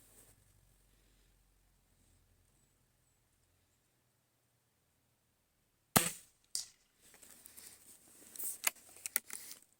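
A Shanghai B1-1 air rifle fires a Luman 0.45 pellet with a sharp, loud crack after quiet, followed by a few clicks and handling noises as it is worked for the next shot.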